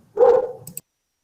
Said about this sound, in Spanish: ¿El perro de quién es, che?